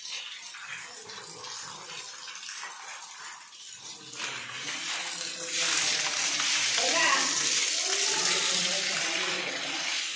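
Water is splashed across a temple floor during cleaning before a Ganesh festival, a rushing hiss that swells and continues loudly near the end, with voices talking beneath it at the start.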